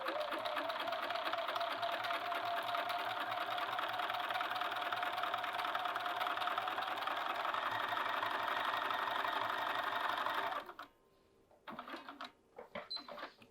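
A domestic sewing machine stitches a sleeve seam in one long, steady whirring run, then stops, leaving a few soft handling noises.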